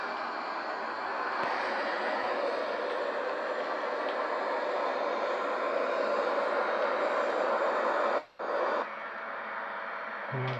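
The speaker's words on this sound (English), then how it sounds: "Gonna make a few more flight over here with the Royal Airforce Eurofighter" A Royal Air Force Eurofighter jet in a flight simulator game gives a steady, dense engine roar that holds evenly throughout, cutting out for a moment near the end before resuming.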